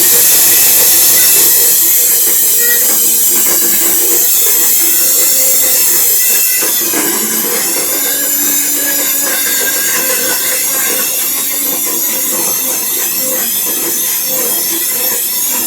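A small blender whirs continuously while making raw chocolate, a loud, steady motor drone with grinding texture that shifts slightly in pitch as the mixture thickens, running alone without any voices.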